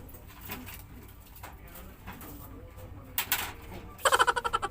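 Taiwan pigeons, including a checkered one, coo softly nearby with low murmuring calls, then a louder burst of rapid flutter or cooing at the end, with some faint handling noises.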